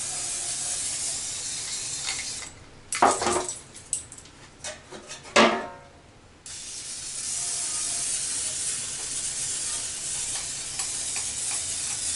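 A close hissing spray of cooking oil onto baking pans runs steadily, breaks into several short sputtering bursts as the nearly empty can weakens, then resumes as a continuous hiss.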